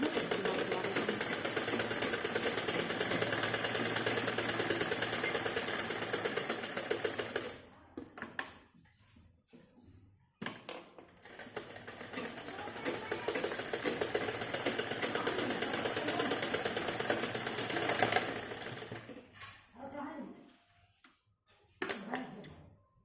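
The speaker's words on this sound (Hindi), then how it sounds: "इस तरह से हम सिलाई चला देते हैं" Electric sewing machine running in long steady bursts while stitching a blouse seam, loud and close, stopping briefly around the middle, then resuming and fading into intermittent short runs near the end.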